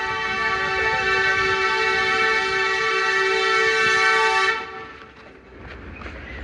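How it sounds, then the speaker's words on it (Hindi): Sialkot Express standing at a station, its horn blaring as one long, loud, steady chord for several seconds before cutting off abruptly into platform ambience. "ओ सियालकोट एक्सप्रेस रेडी खड़ी है"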